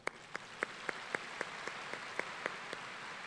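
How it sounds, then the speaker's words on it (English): Audience applause at the 2023 Augusta Technical College commencement for the college deans, a steady patter of many hands with regular sharper claps standing out, moderately distant and fairly quiet. "Please help me applaud the individuals."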